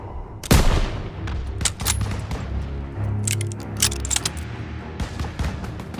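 Battlefield gunfire from the World War II shooter Call of Duty: WWII, a heavy close blast followed by scattered rifle and machine-gun shots and booms amid a rumbling combat backdrop.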